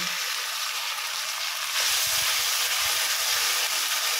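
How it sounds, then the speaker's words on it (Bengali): Masala with salt and turmeric sizzling in a pan while sautéed for a silver carp fish curry, a steady close hiss that grows louder midway, with soft stirring scrapes and no talking. "বন্ধুরা নুন আর হলুদ দিয়ে দিয়েছি, এবার ভালো করে কষিয়ে নেব।"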